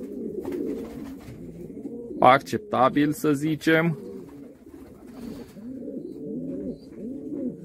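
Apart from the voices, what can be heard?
pigeons cooing in an aviary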